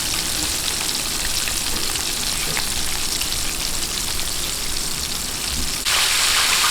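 Chicken pieces deep-frying in hot oil until golden brown and crispy, a dense, steady sizzle throughout that swells slightly louder near the end, with no talking.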